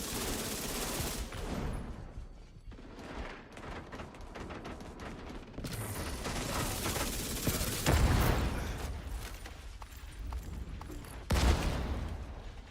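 Repeated grenade blasts and dense gunfire in The Division 2 shooter, with loud booming bursts around eight and eleven seconds amid continuous rattling combat noise, no talking.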